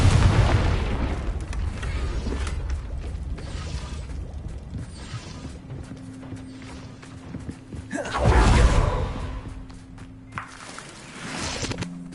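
Confringo fire spell blasts in Hogwarts Legacy, a sustained low rumbling boom with crackling and mechanical creaks, swelling into a louder fiery burst near the end, then fading.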